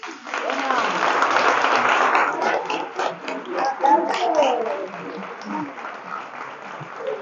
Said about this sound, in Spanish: Le damos un aplauso a David.